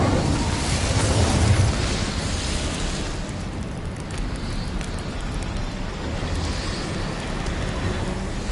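An Incendio fire spell is cast in the video game Hogwarts Legacy, a loud, dense roaring burst of flame that swells in the first couple of seconds, then settles into a sustained rushing hiss.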